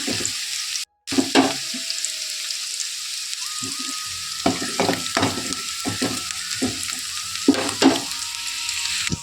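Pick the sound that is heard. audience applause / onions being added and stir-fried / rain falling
onions being added and stir-fried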